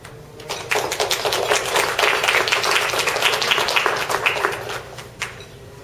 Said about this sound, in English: along with me, please clap.